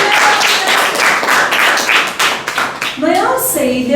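Children in a classroom give a big round of clapping, dense and loud for about three seconds before it thins out, with voices and chatter mixed in throughout.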